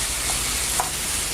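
Veal strips with Munster cheese and lardons sizzle in a pan as their liquid cooks off, a steady loud dense hiss with a soft stirring scrape, no voices.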